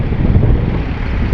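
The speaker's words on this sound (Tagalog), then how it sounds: "Lakas ng hangin." Strong wind at the Port of Lucena City buffeting the microphone in a steady, loud, low rumble with no talk.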